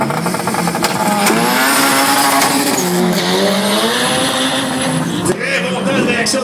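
A turbocharged Honda Civic race car in a drag racing league, its engine howling loud and close as it climbs through the revs, with a brief gear-change dip, while a commentator talks over it.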